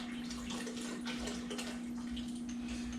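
Steady running water from a tap while glass vanilla extract bottles are rinsed out during sanitizing, a continuous close splashing rush with a faint steady hum underneath, no talking.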